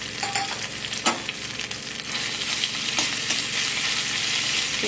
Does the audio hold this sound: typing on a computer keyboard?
no